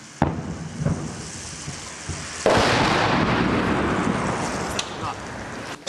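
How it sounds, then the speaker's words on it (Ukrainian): Heavy booming blasts of artillery shelling on residential blocks in Avdiivka, one sharp crack followed later by a loud sustained rumble that rolls on, with a few lighter pops scattered through. "за дві хвилини починається артилерійський обстріл житлових кварталів"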